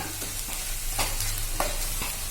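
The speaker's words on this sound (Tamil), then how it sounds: "இப்ப இது நல்லா பொரியுங்க" Foxtail millet flour roasts in a pan over low heat with a soft, continuous sizzle. Three scraping stir strokes stand out, close and fairly quiet, with no one speaking.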